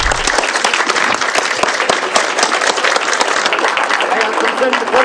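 Members of the central council of the Patriotic Union of Kurdistan applaud at a meeting, welcoming Kirkuk governor Dr. Najmadin Karim. The clapping is loud, dense and sustained throughout, with sharp individual claps standing out.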